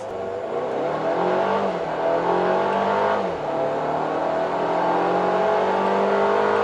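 A Mercedes-Benz GLB 250 4MATIC engine in sport mode revs and accelerates hard, its pitch climbing through gear changes, loud and close with a sporty, growling tone.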